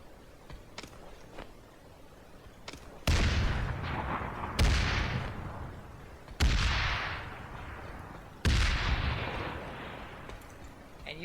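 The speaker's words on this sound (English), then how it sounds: "I will start tossing out the frag grenades from my, usually it'll be my high vantage point." Frag grenades detonate one after another in the shooter game Planetside: four loud, sharp blasts a second or two apart, each trailing off into a rumbling decay over quieter distant gunfire.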